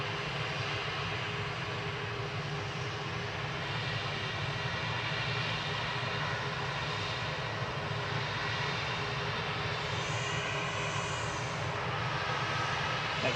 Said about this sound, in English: Next in is SAS coming in from Stockholm, SE ROT, ROT, with flight 2547, A320neo, on approach.